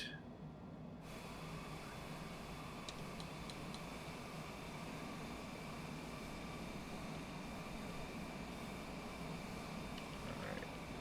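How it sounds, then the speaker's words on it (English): Aircraft engines spooling up in MS Flight Simulator, a steady, broad whine and roar holding even throughout with faint ticking clicks in the cockpit. "Engines are coming up to speed."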